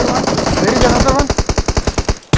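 Rapid automatic gunfire in the PUBG video game, a loud close burst of about a dozen evenly spaced shots after a moment of mixed game noise and a voice.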